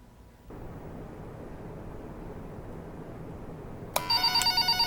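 Inside a video game, a quiet low room hum runs for a few seconds before a telephone bursts into rapid electronic rings, a bright repeating trill that is loud and close.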